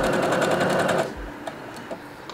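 A sewing machine runs at close range for about a second, stitching a zigzag seam onto the trim of a curtain, then falls silent, leaving only a few faint clicks.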